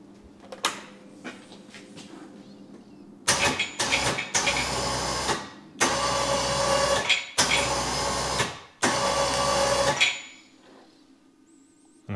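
Winch on a Warn front mount plow fitted to a Honda Rubicon ATV, running in a series of loud, close whirring pulls of a second or so each, separated by brief stops, over a low idling hum.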